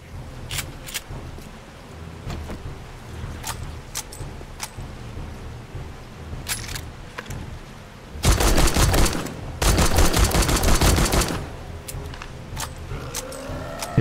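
Rapid bursts of gunfire in the zombie survival game 7 Days to Die, scattered single shots followed by two dense, loud sustained volleys, with background game ambience between them.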